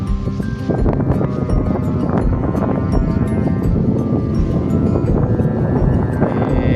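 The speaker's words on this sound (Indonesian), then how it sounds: "Angin di sini sangat kencang sekali." Strong wind buffeting across open highlands, a loud, steady roar with gusty rumbling throughout and no speech.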